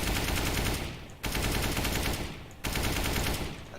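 Sustained automatic rifle fire in Counter-Strike: Global Offensive target practice, loud, dense bursts broken by two brief pauses, with no talking.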